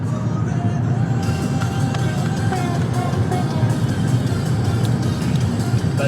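Car moving on a road from France into Belgium, a steady loud engine and road drone with no clear surge, constant throughout.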